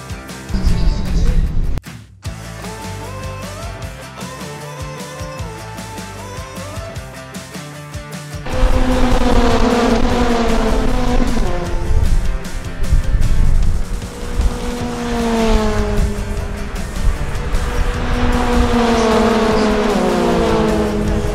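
Mazda MX-5 Cup race cars on a circuit, engines revving hard with rising and falling pitch through gear changes, a brief gap early on, then several cars loud and close together, no talking.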